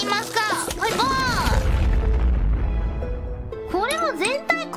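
An exploding plant in the video game Plants vs. Zombies goes off as a deep, rumbling boom lasting a couple of seconds, sandwiched between bursts of animated, high-pitched speech.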